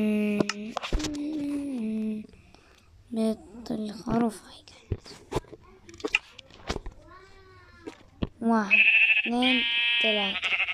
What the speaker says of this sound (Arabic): ما انا بلاقي لي خروف